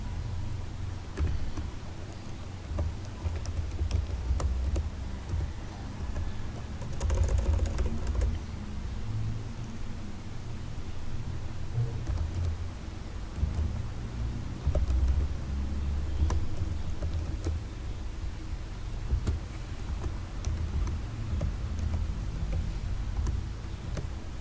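Typing on a computer keyboard while entering an administrator password to join a machine to a domain, a steady run of soft clicks over a continuous low hum with no talking.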